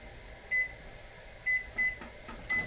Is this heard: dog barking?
no